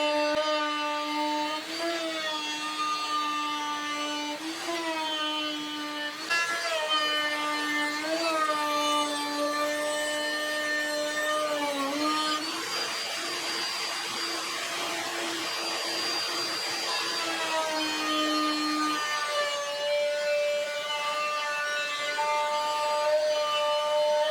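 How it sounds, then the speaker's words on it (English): A power tool cuts a rabbet into a wooden pedalboard box frame, made to hold a 1/2-inch birch plywood panel. A loud, steady motor whine runs throughout and shifts pitch several times as it bites into the wood. "Here, we'll cut a rabbet into the frame to set the plywood inside."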